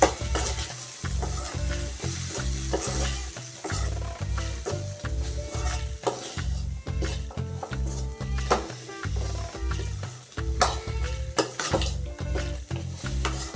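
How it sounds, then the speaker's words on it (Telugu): Spices with garam masala are stirred in a frying pan, a continuous loud sizzle under rhythmic scraping strokes of a spoon, close up. "garam masala one spoon half spoon తీసుకుంటున్నాను తీసుకొని వన్ టైం కలుపుతున్నాను"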